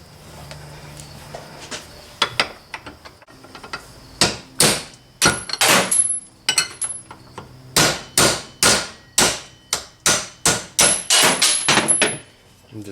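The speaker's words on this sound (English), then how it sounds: "we're just going to hammer these guys out of this" Loud metallic hammer strikes ring out in a steady rhythm as bolts are driven out during a Viper hydraulic slave cylinder install, a dozen or more blows, with a few faint taps before them.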